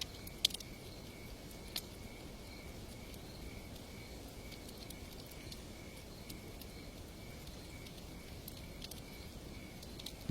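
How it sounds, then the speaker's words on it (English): Crickets chirping at night, a faint steady high trill running unbroken through a quiet, hissy background with a couple of soft clicks and no voices. "The crickets here call all night long."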